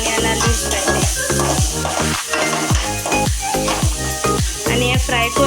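Garlic, rice and spring onion leaves fry in a pan and are stirred with a utensil. A loud, steady sizzle is broken by rhythmic scraping strokes, close up, with no talking.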